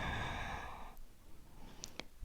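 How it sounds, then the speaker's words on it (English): A person inhales during a yoga flexibility session, one long, soft, airy breath lasting about a second, close to the microphone, followed by quiet room tone and a couple of faint clicks. "Breathe in."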